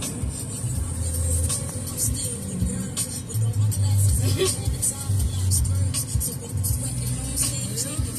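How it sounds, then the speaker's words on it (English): Automatic car wash machinery runs steadily around a car, a continuous broadband wash and rumble with low mechanical droning throughout, while people talk over it. "Alright, y'all, that's our car wash."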